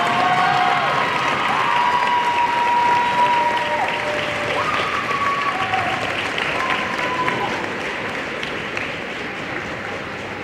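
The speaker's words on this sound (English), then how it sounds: "One more round of applause for our drill teams." Sustained crowd applause for drill teams at an NJROTC pass in review ceremony, steady and loud throughout with scattered cheers and a voice over it.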